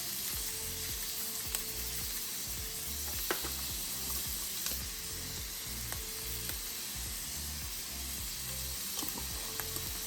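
Browned ground meat and minced garlic frying in a pan, a loud, constant sizzle with repeated scraping, stirring strokes throughout, close up and with no talking.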